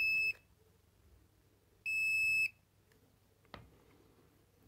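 A Fluke contactless voltage detector held against a live mains wire gives two clear, steady electronic beep tones, one short and one longer, in an otherwise quiet room, followed by a faint click.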